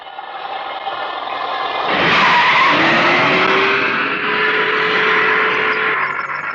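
A car skids to a stop with a loud, sustained tire squeal over a rising engine roar, close by and fading slightly at the end.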